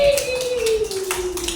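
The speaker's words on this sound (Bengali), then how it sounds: "একটা কমলিকার জন্য একটা হাততালি দাও সবাই" Young pre-primary schoolchildren clap for a classmate in a classroom, a brief scatter of light, uneven hand claps over a sustained sliding tone.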